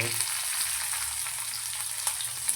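Garlic sizzles steadily in hot oil in a pan, a continuous close frying hiss with faint crackles and no voices.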